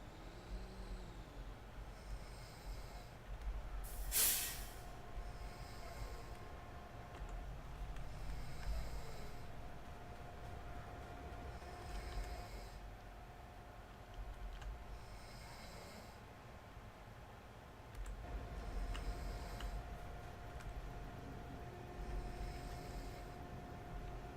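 Locomotive rumble in Farming Simulator 22 during a winter scene, a steady low drone with a faint whine running throughout, a sharp hiss burst near the start and recurring soft rhythmic pulses like rail wheels, no talk.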